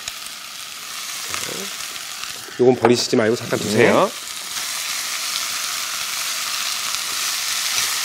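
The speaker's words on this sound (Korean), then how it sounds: "요 상태에서 이제 볶아줘요? 예, 살짝 볶는 거예요." Marinated pork sizzles steadily in a hot pan as it is stir-fried, a constant hiss running under a brief stretch of talk.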